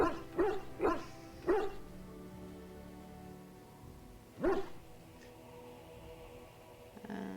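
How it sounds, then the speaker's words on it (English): A loud dog barks several times in a quick burst, then falls quiet before one more bark, with a faint whimper in the pauses and no talk over it. "That's a very loud dog."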